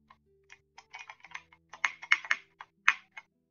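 Keys clatter on a keyboard in The Kindred video game, a quick irregular run of crisp taps that grows denser and louder toward the end, heard alone.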